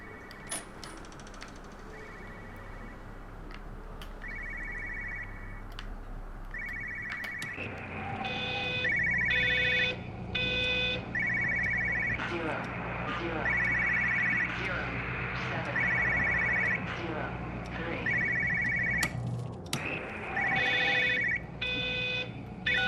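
A telephone rings repeatedly in the game Everybody's Gone to the Rapture, a steady pattern of bright electronic ring bursts over a low ambient drone and music, fairly loud and continuing throughout.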